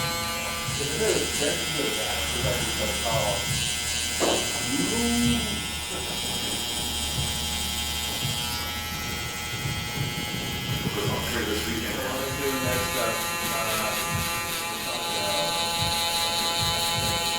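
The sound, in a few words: electric hair clippers cutting hair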